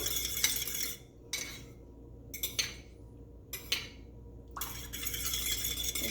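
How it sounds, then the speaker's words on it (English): Eggs beaten with a fork in a bowl for an omelet, making quick bursts of rapid scraping clicks separated by short pauses, close and clear. "I'm using a fork. You can also use a whisk. So you just beat it until everything is uniform."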